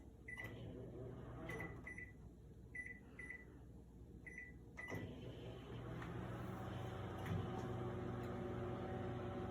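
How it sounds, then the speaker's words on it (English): A microwave oven hums steadily while cooking an omelette of egg and cheese in a mug, with several short beeps and a door click early on before the low running drone settles in, no talking. "then we put them in the microwave"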